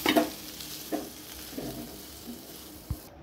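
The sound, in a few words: chicken and vegetables frying in a pan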